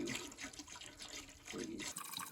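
Antifreeze poured into a plumbing drain trap while winterizing a seasonal summer cottage, a steady close liquid pour and gurgle with small splashes, running on with no voices.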